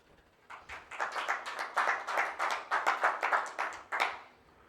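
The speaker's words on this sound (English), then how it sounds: "I think Colin and Joe need a round of applause" Applause from a small club-meeting audience honoring two organizers, a brisk burst of many hands clapping that swells quickly, holds steady for about four seconds, then fades out.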